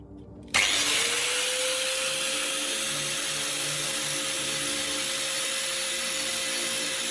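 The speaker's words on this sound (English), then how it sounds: "trim it carefully with a grinder" An electric grinder spins up sharply and runs at a steady high whine, trimming the edge of a metal hammerhead, loud and close for several seconds.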